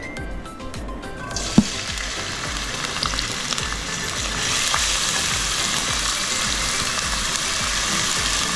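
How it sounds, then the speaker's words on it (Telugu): Thinly sliced onions fry in hot oil in a pan for a prawn and egg curry, giving a continuous, even sizzle with a few faint stirring clinks early on. "ఉల్లిపాయలు ద్వారగా వేయించుకోవాలి."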